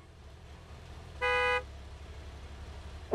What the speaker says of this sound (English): No honking! No honking!